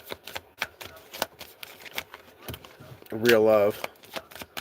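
A deck of cards riffles quickly through a shuffle in a clicking stream, scattered among a person's steady talk and a brief sung tone.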